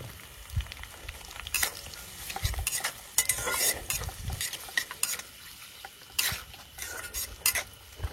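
Onion going into a pan with a green chilli tempering outdoors, stirred with a utensil that scrapes and clinks in irregular bursts over a soft, faint sizzle.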